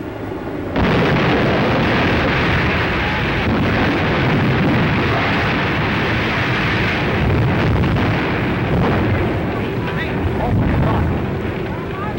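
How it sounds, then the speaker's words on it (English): The hydrogen airship Hindenburg explodes in 1937: a sudden loud roaring blast erupts and keeps rumbling and crackling like a raging fire, with a newsreel commentator talking over it throughout. "the flames have enveloped the entire structure"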